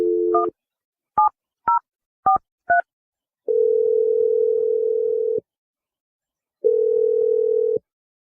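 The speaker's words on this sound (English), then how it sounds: "I'm going to dial the number right now." A telephone line gives a short dial tone, then a quick series of separate keypad beeps as a number is dialed, followed by two long steady ringback tones with silence between them.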